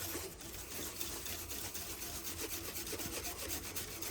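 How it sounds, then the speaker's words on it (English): A wire brush scrapes leftover gasket material off a boiler surface in quick, rhythmic back-and-forth strokes, a quiet, continuous rasping scrub at close range with no talking. "scraping to kind of even it all out and remove any leftover gasket"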